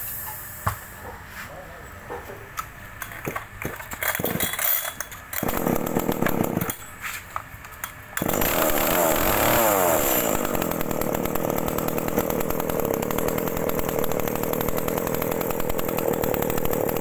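A chainsaw sputters a few times, then its engine catches and runs continuously with a loud, steady, high-pitched buzz.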